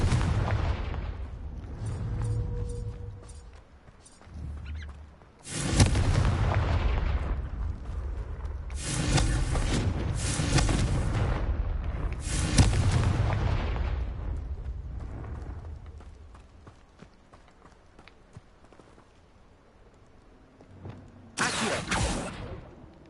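Confringo explosive spell blasts in the Hogwarts Legacy game: several loud, booming bursts arrive in separate clusters, each with a sharp hit and a rumbling tail, with quieter stretches between them.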